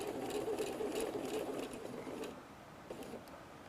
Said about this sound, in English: And we're going to sew right down to that center point.